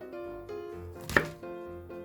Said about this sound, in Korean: 먼저 양파를 슬라이스해서 양파를 사용하고요.